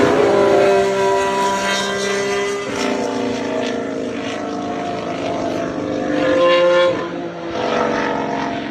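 An Alpine Formula One car fitted with a Mercedes turbo hybrid engine drones steadily and loudly, its engine tone holding for several seconds with slight pitch shifts before a brief dip and recovery near the end.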